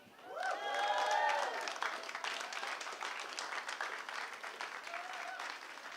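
A crowd cheers and applauds for the Hillsborough Justice Campaign at a talk, with whoops and shouts rising over sustained clapping that swells early and then holds steady.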